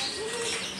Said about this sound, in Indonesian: Ada perkutut juga ini.